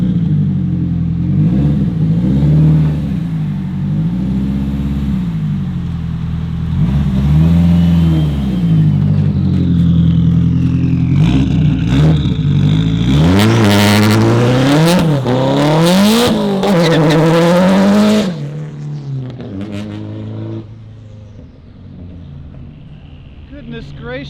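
Turbocharged SR20DET engine in a Nissan 240SX with an EFR 6758 turbo, revving repeatedly in rising and falling sweeps, loud and close, with a high compressor whine over the engine and some talking mixed in.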